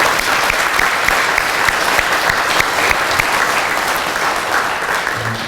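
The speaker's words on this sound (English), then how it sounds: "So can we give a huge round of applause to all the volunteers and participants who made that possible?" Steady applause from an audience at a chamber of commerce annual meeting, honoring event volunteers and participants; dense, continuous clapping at even loudness throughout, with no talk over it.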